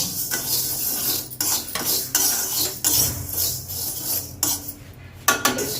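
Mustard and fenugreek seeds are stirred and dry-roasted in a pan, a close, busy run of metallic scraping and rattling strokes with short pauses between them.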